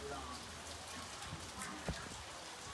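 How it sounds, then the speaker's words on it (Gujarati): Rain falls steadily over a village, a soft continuous hiss of drops with a faint patter, fairly quiet and even throughout, with one small knock near the end. "વરસાદ આવ્યો"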